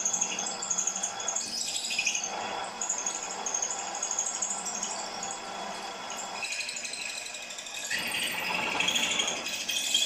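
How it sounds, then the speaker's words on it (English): A drill bores through the cylinder block of a 2-inch scale Fowler showman's traction engine, producing a steady grinding, rattling whine that rises and falls as the bit cuts through the metal. "Just extend the drill down."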